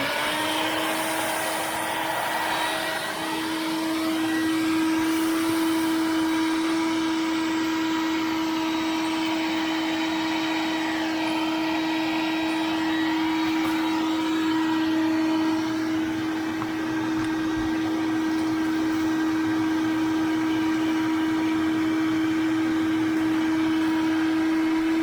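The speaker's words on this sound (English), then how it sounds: "we're gonna vacuum it out here" A vacuum cleaner drones steadily and loudly up close while cleaning the interior of a 2005 Nissan Murano, holding an even motor hum with a constant pitched tone throughout and no talking.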